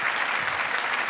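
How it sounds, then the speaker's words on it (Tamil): Steady audience applause fills the whole moment at a Tamil stage event honoring actress Gautami, a dense, continuous patter of clapping with no voices over it. "அந்த தேவதைக்கு நல்ல கைத்தட்டல் தந்து உற்சாகப்படுத்துங்க."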